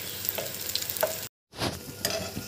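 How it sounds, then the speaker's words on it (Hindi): Pakoras fry in hot oil, a loud close hiss and crackling sizzle with occasional stirring clinks, briefly cut out to silence for a moment, then resuming just as strongly. "तो इसमें देखो थोड़ी देर एक साइड के होने देते हैं"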